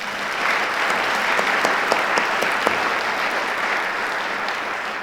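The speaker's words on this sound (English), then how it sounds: "Let's give our soon to be announced award winners a round of applause." An audience at the Elevate AEC 2019 conference applauds award winners, a dense and even clapping that holds loud and steady for several seconds.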